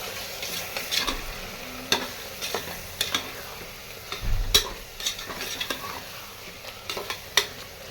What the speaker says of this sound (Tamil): எல்லாத்தையும் சேர்த்து ஒரு வதக்கிட்டு அதுக்கப்புறம் நம்ம உருளைக்கிழங்கு ஆட் பண்ணிக்கலாம்